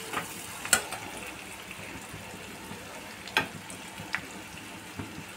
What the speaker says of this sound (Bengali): দেখো মশলাটা কষানো হচ্ছে।